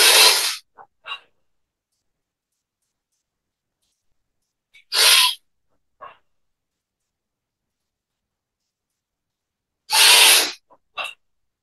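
Deep, forceful inhalations during a yoga breathing exercise, three loud airy intakes about five seconds apart, each followed by a brief softer breath, close and otherwise silent.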